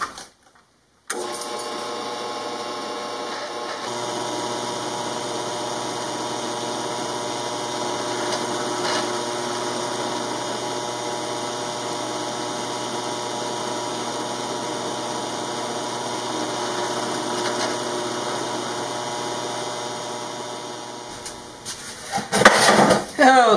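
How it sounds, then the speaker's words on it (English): A power drill runs steadily for about twenty seconds, boring tiny holes in small wooden letters, a continuous whirring hum that stops near the end before a few clattering handling sounds. "I need to drill a tiny little hole in each letter"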